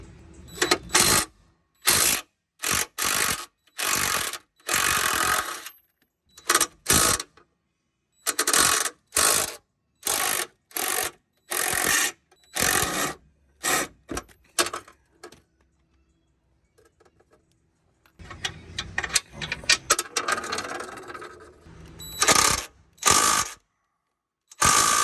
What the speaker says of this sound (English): decided just to come in here, the 3/8 ratchet and extension